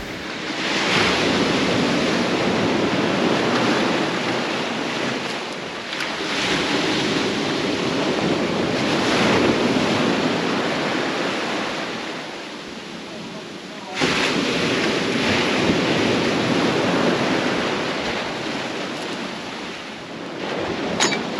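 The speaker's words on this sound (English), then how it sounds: "the wave starts to crest out there, sets are rolling in now" Sea surf surging and rolling onto the Holderness coast, a steady broad roar that swells and eases in long sets, with wind buffeting the microphone and a sharp jump in level near the end.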